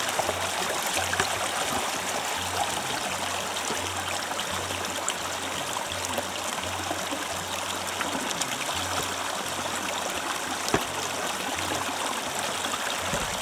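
Water flowing through a gold sluice classifier, its flow slowed by a 10-inch gold pan, a steady close trickling and gurgling stream with a faint low hum underneath, continuous and without talk.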